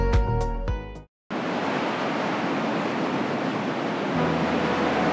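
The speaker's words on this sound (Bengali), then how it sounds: "সমুদ্রের নীল জলের আছড়ে পড়ার শব্দটা বেশ অদ্ভুত লাগে" Sea waves breaking on Inani Beach at Cox's Bazar make a steady, broad surf roar close by, coming in after a short burst of music and a brief silence.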